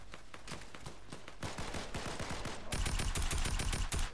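Fortnite gunfire rattles in rapid bursts, sparse single shots at first, then a loud, fast automatic stream near the end, with no talk over it.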